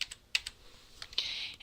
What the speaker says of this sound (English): we're going to start typing their numbers